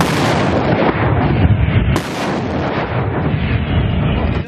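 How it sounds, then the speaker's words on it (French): Artillery guns firing in support of a military convoy in a combat zone, heavy booming blasts rolling into dense rumbling noise, with one sharp near report midway and continuous loud low thunder throughout. "Le convoi repart, soutenu par les tirs d'artillerie."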